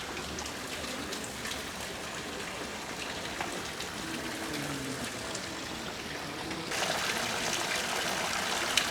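Water trickles steadily into a hand-washing basin at a Kyoto temple, a continuous close splashing flow that grows slightly louder toward the end.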